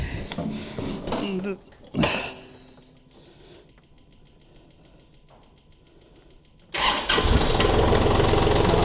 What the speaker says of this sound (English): And I've already had the tractor started up a little bit,